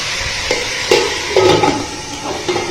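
Onions sauté in a hot pan on a fairly strong medium flame for dhaba-style bhindi, with a steady sizzle broken by several close scrapes and clinks of stirring.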